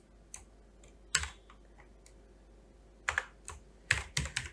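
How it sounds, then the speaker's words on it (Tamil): Irregular bursts of keystrokes on a computer keyboard while text is typed into Adobe Illustrator, quiet and close, with short clusters of taps separated by pauses and no talking. "இப்போ நான் டெக்ஸ்ட்டை எடுத்து ஏதாச்சும் டைப் பண்ண போகிறேன்"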